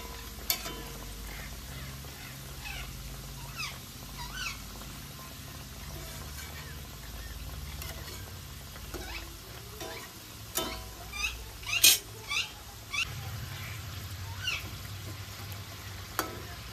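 Chicken samosas frying in oil make a soft, continuous sizzle, joined by scattered light taps and scrapes from a utensil toward the end, with no talking.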